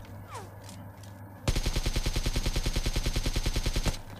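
Ambient game noise and a faint voice precede a sudden burst of rapid automatic gunfire in PUBG Mobile, firing evenly spaced shots for about two and a half seconds, close and loud.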